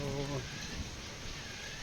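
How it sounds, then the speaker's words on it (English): Steady rain falls in the Zelda: Tears of the Kingdom video game, a dense even hiss that fills the whole moment after a brief tonal in-game sound fades at the start. "And now it's raining"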